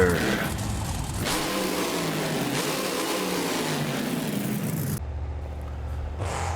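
A monster truck engine in the BeamNG Drive game roars and revs steadily, loud and continuous throughout, with a brief change in tone near the end.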